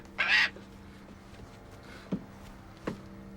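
A hawk in a film scene gives one harsh, raspy call, followed by a couple of faint short clicks or knocks against a quiet, humming background.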